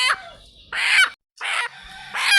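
Backyard chickens let out of their coop give three loud, close bursts of squawking and clucking separated by short pauses, with no talk.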